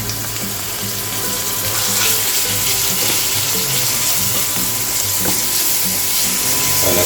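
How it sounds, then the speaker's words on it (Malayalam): Sliced onions frying in oil in a pan for a Kerala chicken stew, a loud, continuous close sizzle with a steady crackling hiss throughout, no voices. "സവാള ചെന്ന് ഫ്രൈ ആക്കി എടുക്കണം."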